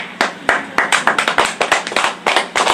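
A church congregation claps at a service, with about a dozen sharp, loud claps in an uneven rhythm close by and no talking.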